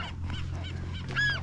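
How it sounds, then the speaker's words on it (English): Seagulls call faintly in the open air on rocky Anacapa Island, giving a few scattered, harsh honking cries, one louder near the end, over a steady low rumble of wind. "we got the seagulls, I believe. I think they're seagulls"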